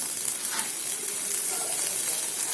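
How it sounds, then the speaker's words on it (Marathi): Green chillies sizzling in a hot pan, a steady, even frying hiss that stays close and moderately loud throughout, with no voices over it. "इथे मी एक पॅन गरम करून घेतला आहे याच्यात आपल्या हिरवी मिरच्या"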